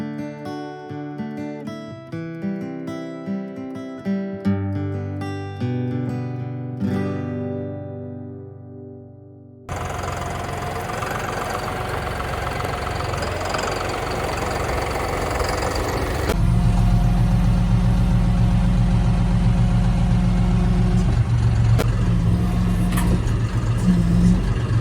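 A tractor, the 75, runs with a hay mower hooked up in a hayfield, a steady loud engine drone that builds and grows heavier partway through, with no talking.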